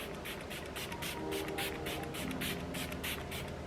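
Becca Skin Love Glow Shield Prime and Set mist sprayed from a pump bottle in a quick run of short hissing bursts, close and fairly soft, with no voices.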